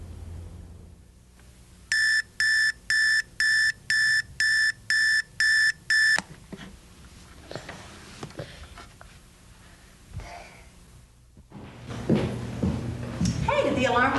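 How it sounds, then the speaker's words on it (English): An alarm clock beeps in eight sharp, evenly spaced pulses, loud and electronic, then stops; afterwards come rustling, a door-like thud and people talking. "did the alarm clock wake you up?"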